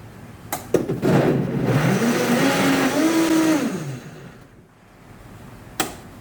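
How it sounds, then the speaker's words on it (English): A kitchen blender whirs at its highest variable speed setting while mixing whole wheat pancake batter made with sourdough starter discard, a loud steady motor drone with a rising and falling pitch, then stopping, followed by a few clicks. "turn it to the variable speed to the maximum and put it onto high. Let it mix well."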